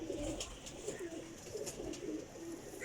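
Soft, repeated pigeon coos with occasional brief wing flutters, steady and close, with no talking.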